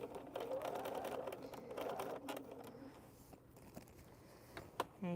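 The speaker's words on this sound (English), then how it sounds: "I should be sewing in, not pressing in, sewing in." Sewing machine stitching a seam while finishing a quilted duffle bag, a rapid buzzing run for about three seconds, then quieter handling clicks and rustles, with a person talking nearby.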